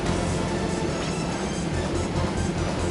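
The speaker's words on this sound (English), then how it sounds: "It's another train." A train passing in the video game Wild Arms 3, a dense, steady rumble and clatter of rolling wagons holding at a constant loud level throughout.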